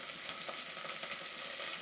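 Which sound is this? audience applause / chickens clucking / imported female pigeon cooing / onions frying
onions frying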